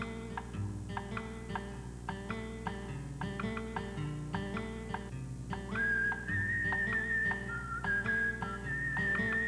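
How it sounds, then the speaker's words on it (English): A cartoon cowboy whistles a little cowboy tune, a steady melodic whistle over a looping instrumental backing with rhythmic plucked chords, fairly loud and continuous. "Why, he's whistling a little cowboy tune."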